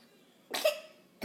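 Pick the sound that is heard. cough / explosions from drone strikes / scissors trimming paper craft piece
cough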